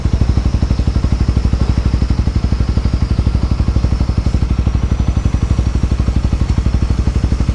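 A motorbike engine thrums close behind on a street in Pattaya, a loud, fast and even chugging that runs continuously throughout.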